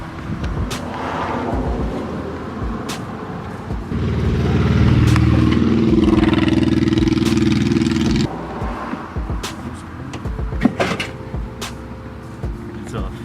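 A car revs and strains for a few seconds as a rope tied to a Kia's muffler pulls it off, then clanks and rattles follow, with people talking throughout.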